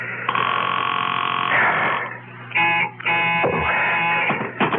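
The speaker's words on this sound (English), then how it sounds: "I'll just answer the phone." An old-style telephone bell rings in repeated loud bursts with short gaps, a sound effect in a radio mystery drama, heard alone without any talk.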